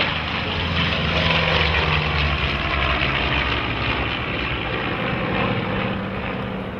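Vintage piston warplanes, a P-47 Jug, a Corsair and a Skyraider, flying over the Duxford Flying Legends airshow, a loud continuous propeller-engine drone holding steady and fading slightly at the end.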